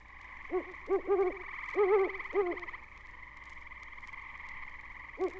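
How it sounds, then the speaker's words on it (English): A great horned owl hoots at dusk in Sapsucker Woods: a short series of deep, evenly spaced hoots, then one more after a pause, over a constant thin insect drone. "In the distance, a horned owl gives his less varied hoots."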